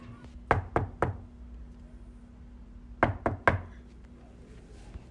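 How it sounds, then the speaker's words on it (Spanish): Two quick bursts of knocking on a wooden door, three sharp raps each about two seconds apart, close and fairly loud over a low steady hum, with no one talking. "Preguntó el muchacho tocando a la puerta de Candy"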